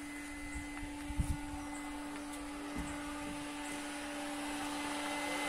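A steady electric blower hums continuously with a tonal whine while building with EPS foam blocks, joined by a few brief clicks and knocks.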